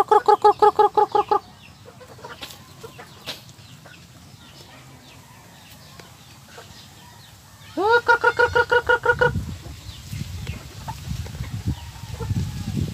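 Native chickens crossed with another breed clucking while being fed, two bursts of rapid repeated harmonic calls near the microphone, separated by a quieter stretch of scattered pecking and faint clucks.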